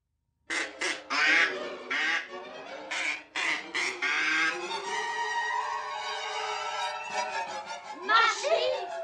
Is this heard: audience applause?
no